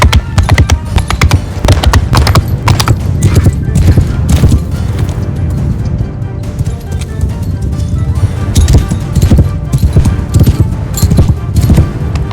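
Horse hooves clip-clopping in the video game Bannerlord, a loud, busy stream of rapid hoof taps through the whole passage. Many horses seem to be moving at once, and now and then a horse whinnies.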